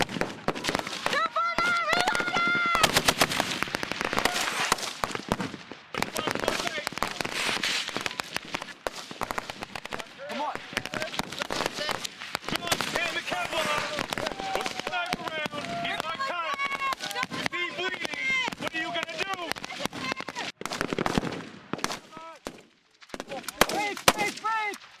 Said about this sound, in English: We're doing a defensive live fire scenario.